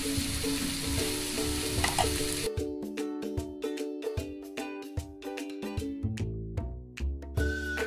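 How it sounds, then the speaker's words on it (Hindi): Shredded cabbage hits hot oil on a tawa for a burger filling, giving a loud broad sizzle at first that drops to softer frying crackle with scattered clinks and scrapes from stirring. "थोड़े से फ्राई कर लेंगे। और ये है पत्ता गोभी, ये डाल देंगे।"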